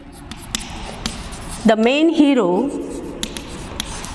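Chalk or marker writes on a classroom board in a few light scratchy taps and strokes, with a voice briefly rising in the middle.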